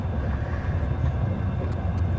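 Steady low rumble and rolling clatter heard from inside a moving passenger train on a trip home from Odesa, continuous and fairly loud with no voices.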